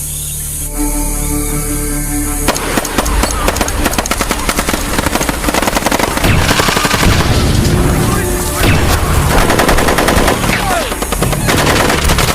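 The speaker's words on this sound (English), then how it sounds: "They get into position and start shooting" Hitmen firing guns in a jungle in a movie scene, loud sustained bursts of automatic gunfire with dense overlapping shots and booms after a brief tonal lead-in, with a voice faintly under the barrage.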